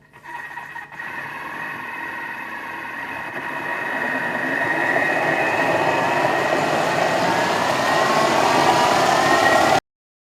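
A food processor remixes a red lentil and cashew spread at speed 6, a steady whirring drone that builds in loudness and pitch over several seconds and then cuts off abruptly, with no talking.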